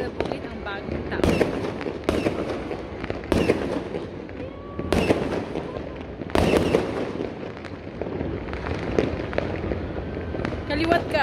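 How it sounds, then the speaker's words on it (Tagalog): New Year 2020 fireworks display over Makati, heard from a rooftop: loud, irregular booming bursts every second or so with crackling in between, while people talk nearby. "Dami fireworks!"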